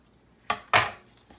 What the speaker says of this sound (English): Okay, so we can cut off this whole side.